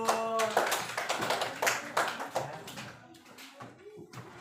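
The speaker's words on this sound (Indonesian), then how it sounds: "nah, kasih aplaus dulu." Classroom clapping in an Indonesian primary school lesson, a short burst of hand claps right after a teacher's prompt that fades out over a few seconds, with speaking voices mixed in.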